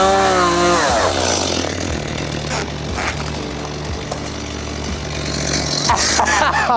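A freshly sharpened chainsaw runs loud and close, its engine revving as it bites into wood on a large overgrown plot, with the pitch dipping and surging under load through the cut.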